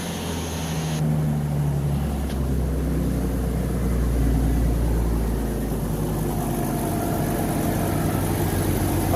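An old car engine with exhaust leaks and a cracked manifold idles close by as a steady, rough, low rumble that runs throughout with slight shifts in tone.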